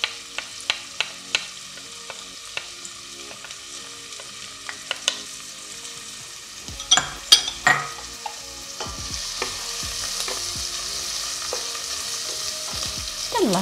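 Onion and garlic frying in a pot for a vegetarian cabbage borscht: spoon stirs and scrapes against the pot in quick clicks, then a steady sizzle swells as the onion hits the hot fat, with stirring knocks continuing over it.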